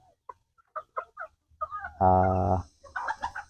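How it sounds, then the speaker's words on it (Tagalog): Farm roosters of native and cobra-cross stock give short, scattered clucks, then one loud drawn-out crowing call, followed by a few more quick clucks, all fairly close. "Ito, tandang din."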